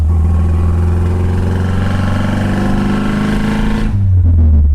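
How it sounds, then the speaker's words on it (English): Saab Sonett engine revving through a downshift in a worn, rusted-out car, a loud, steady mid-pitched drone that rises and drops near the end, heard up close and alone. "Let me downshift. Take a listen."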